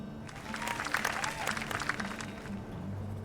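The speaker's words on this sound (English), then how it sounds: "let's give a special round of applause for our core construction team" In the video game My Time at Sandrock, a crowd applauds the core construction team at a bridge-rebuilding ceremony, a soft wash of clapping that swells and fades over a couple of seconds beneath background music.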